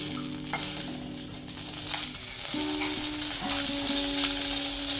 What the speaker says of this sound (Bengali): এক টুকরো রুই মাছ নিয়েছি, এটাকে নুন হলুদ দিয়ে ভেজে নিচ্ছি।